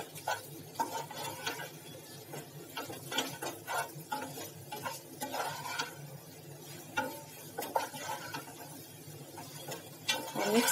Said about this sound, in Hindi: पहले मिक्स कर लेंगे इसको अच्छे से।